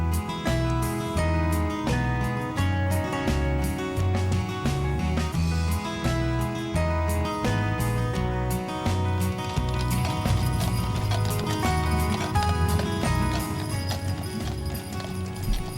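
A pair of 2,000-pound dapple gray Percheron horses pull a carriage through narrow town streets in Jim Thorpe, their hooves clip-clopping steadily and briskly over a busy background of rattling wheels and harness.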